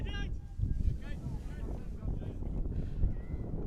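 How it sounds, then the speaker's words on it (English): Strong wind roars and buffets across an open football ground during an amateur cup final, a constant heavy rumble with gusts throughout. "A very windy day here, as you can probably hear down here"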